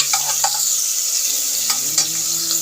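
Aromatics for a sautéed mussel dish crackle and hiss continuously in a hot pan, with a few brief stirring clinks and a faint tonal hum beneath.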